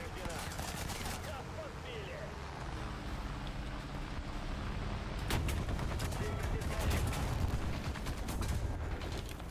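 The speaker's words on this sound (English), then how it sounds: "Who the fuck is shooting me?" Gunfire in the tank battle game War Thunder, bursts of shots and rattling fire that grow denser and louder midway, with someone talking over it.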